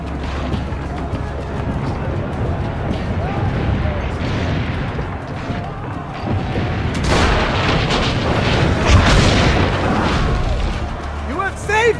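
Cannon fire and explosions in Assassin's Creed Brotherhood, with dense rumbling booms that swell louder near the end, blended with game speech and battle noise throughout.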